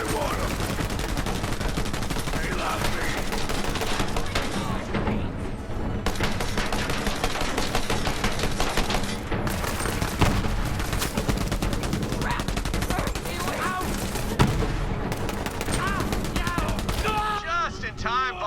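Dense, rapid gunfire from a Borderlands 3 battle rattles almost without pause, bursts of automatic fire and impacts layered over game music and effects.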